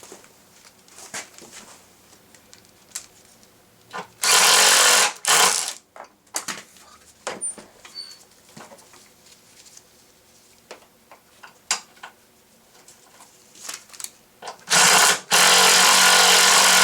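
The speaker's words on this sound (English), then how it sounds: "then you can tighten the little Torx bolt" A ratchet tightens a small Torx bolt on a 2001 Volvo S60, clicking in quick bursts of ticks with short pauses, interrupted by a few loud rustling or blowing noises close to the microphone.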